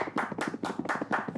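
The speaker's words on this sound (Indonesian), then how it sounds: "tepuk tangan semuanya buat Nuka" A small studio audience at a music talk show claps in a quick, uneven burst of handclaps, close and moderately loud, lasting just over a second.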